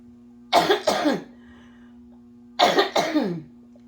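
Two pairs of harsh coughs, close and fairly loud, separated by a pause, over a steady low electrical hum.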